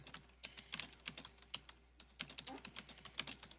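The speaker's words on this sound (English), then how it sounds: "There's vigorous typing." Vigorous typing on a computer keyboard, a quiet irregular run of sharp key clicks and clacks for several seconds, no voices.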